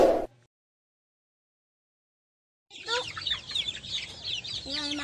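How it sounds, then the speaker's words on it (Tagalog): Chickens cluck and chatter at feeding time after a short silence, several birds calling close by in a busy, continuous chorus. "Ngayon ay ipapakita ko sa inyo yung inaalagaan naming manok."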